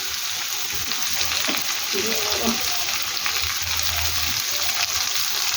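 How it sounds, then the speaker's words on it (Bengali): Sliced onion fries in hot oil in a pan with a dense, steady sizzle that stays loud and close, broken by a few bubbling and stirring sounds, while a voice talks faintly underneath. "পেঁয়াজটা ভালো করে ভেজে নিয়ে ফিরছি।"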